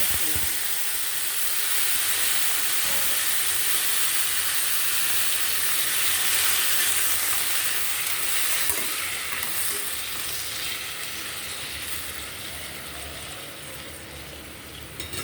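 Tomato pieces fry in a pan, giving off a continuous steamy hiss and sizzle with faint stirring scrapes, steady and moderately loud throughout.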